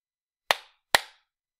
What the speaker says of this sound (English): I clapped 2 times because that is a long vowel.